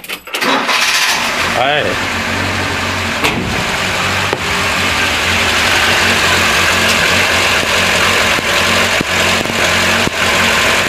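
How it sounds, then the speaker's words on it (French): A car engine cranks and catches during a battery test, then settles into a steady idle rumble that continues throughout, with a short spoken word near the start. "Démarrer le moteur."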